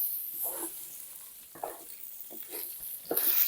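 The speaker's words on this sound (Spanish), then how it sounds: "Ahora echamos aquí el arroz y lo sofreímos un poquito" Rice sautéed in a pan, a faint sizzle broken by intermittent scraping stirs in short bursts, quiet and close.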